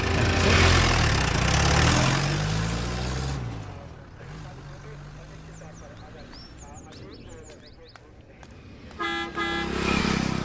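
A bus pulls in with its engine running and sounds its horn in a few short, bright toots, then a final blast; people talk nearby throughout.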